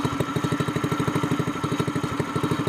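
Honda GX200 mud motor engine with a short exhaust pipe running steadily, a rapid even four-stroke chug with a throaty mid-low tone, close and loud throughout, with no talk.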